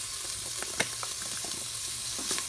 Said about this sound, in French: vous y ajoutez vos lardons.